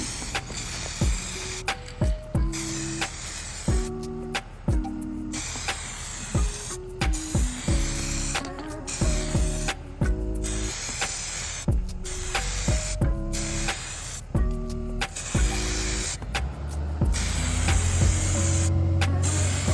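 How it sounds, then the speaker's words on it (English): Repeated short bursts of aerosol spray paint hiss close up as a metal bistro chair is coated, with brief pauses between sprays and a steadier hiss near the end. "Now to spray paint the other chair."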